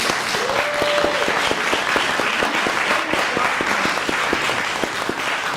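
A theater audience applauds the cast of an original 2024 stage production, with close, distinct individual claps over a broad wash of clapping and a brief whistle or cheer near the start.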